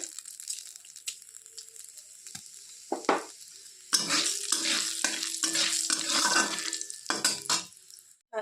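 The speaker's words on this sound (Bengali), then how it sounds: "তারপর দিয়ে দিচ্ছি দুটো তেজপাতা গোটা জিরে" Bay leaves and whole cumin seeds hit hot oil, giving bursts of loud crackling sizzle that start and stop, with spattering pops and a few clinks of a utensil against the pan.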